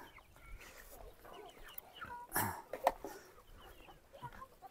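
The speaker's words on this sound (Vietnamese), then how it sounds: "Đàn gà này cứ đi theo mình." A flock of chickens wanders around a Dao village homestead on Mau Son mountain in Lang Son, clucking in scattered, fairly quiet bursts, with a couple of sharper squawks near the middle.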